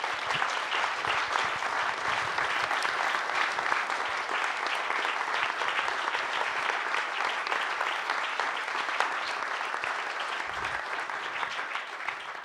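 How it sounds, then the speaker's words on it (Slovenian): An audience applauds at the premiere of a Slovenian documentary film, sustained dense clapping at an even level throughout, heard from some distance in a large hall. "Seveda si vsi trije za vse delo zaslužijo še en velik aplavz."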